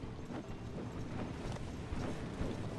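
A ridden horse's hooves clip-clop in a steady rhythm on a hard surface, loud and close, with no other sound standing out.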